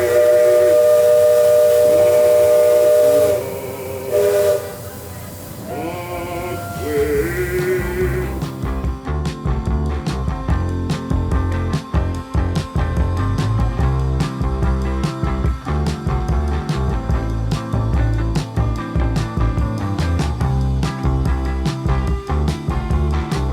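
A loud steam whistle blasts in long sustained tones near a Walt Disney World riverboat, joined partway through by hissing steam and a dense, rhythmic clatter, with no talking.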